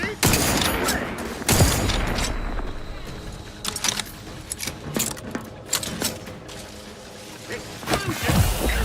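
Grenade blasts and gunfire from a firefight in The Outer Worlds video game, with sharp irregular bursts and bangs crackling throughout, loud at first and then scattered, over an ongoing background rumble.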